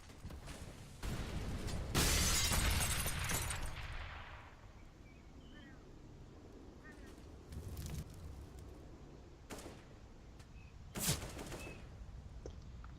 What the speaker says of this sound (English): The nades flowing in now here on the B spot.